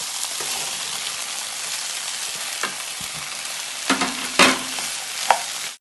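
Cauliflower and peas fry in a pan with a constant crackling sizzle, and a spoon stirs and scrapes in short bursts toward the end. Nobody speaks.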